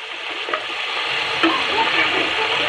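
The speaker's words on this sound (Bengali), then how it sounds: "2 পিট খুব সামান্য ফ্রাই করে নিতে হবে।" Momo filling fries briefly in a pan, giving a loud, steady, close sizzle with occasional light scrapes and clicks from stirring, and no voices.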